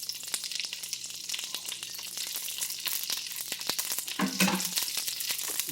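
Pieces of firecracker chicken fry in a pan with a steady, close sizzle and scattered crackling pops, growing a little busier toward the end, with no voices.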